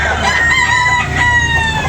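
A rooster over 18 months old at a farm animal market lets out one loud, close crow that fills the short moment, with no other sound competing.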